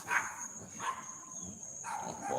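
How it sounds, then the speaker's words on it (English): Dogs bark in a few short bursts somewhere off in the distance, faint against a quiet background with a thin steady whine. "They're out there barking."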